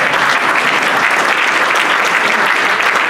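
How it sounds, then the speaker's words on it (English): Loud, dense applause from a Rotary club meeting audience, a continuous close wash of many hands clapping at an even level throughout. "Round of applause for Larry."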